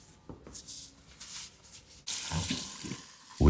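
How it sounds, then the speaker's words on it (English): Water from a salon sink tap runs during a hair wash, starting abruptly partway through as a steady close splashing rush after quieter handling sounds. "We started by washing the hair."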